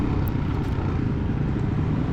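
A stock 2003 Suzuki DRZ400E dirt bike engine drones steadily under load during a cross-country race lap, loud and close with heavy wind rumble and no talking.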